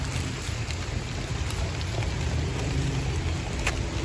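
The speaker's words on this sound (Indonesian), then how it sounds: "Hujan udah turun nih sahabat" Steady rain falls on a vegetable garden of long bean plots, a dense, even hiss of drops close by with no voices.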